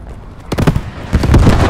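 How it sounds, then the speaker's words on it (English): Explosions on a World War II D-Day battlefield in the shooter game Squad 44: two loud, close blasts about half a second apart, each with a brief rumbling tail. "Okay, there's explosions."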